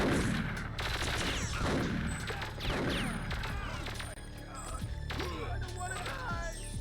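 Rapid gunfire in the Perfect Dark video game, sharp repeated shots and a ringing, chirping electronic sweep, fairly quiet, with a continuous low rumble underneath.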